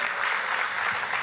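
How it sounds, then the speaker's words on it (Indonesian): A church congregation claps together in dense, steady applause, loud and continuous throughout the short moment. "Boleh kita beri tepuk tangan yang paling meriah"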